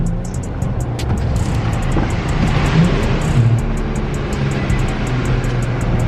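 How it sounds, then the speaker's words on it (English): A car engine drones loudly and steadily from inside the vehicle while driving, its pitch shifting only slightly, with no clear sharp rev spikes. "I tried to downshift one more time, but it was too high."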